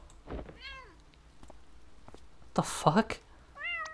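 A cartoonish cat meows several times in the video game Impostor Factory, short rising and falling calls with a louder drawn-out yowl near the end, while a man reacts in speech.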